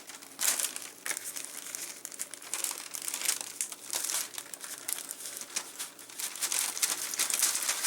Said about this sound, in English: And transfer them in this Ziploc bag.